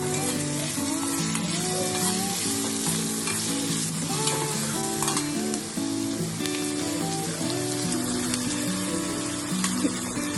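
Tomato cooks and softens in a pan while being stirred, a constant frying sizzle with light scraping, running beneath continuous background music.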